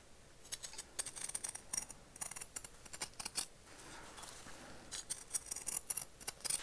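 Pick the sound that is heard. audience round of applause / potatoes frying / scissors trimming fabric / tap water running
scissors trimming fabric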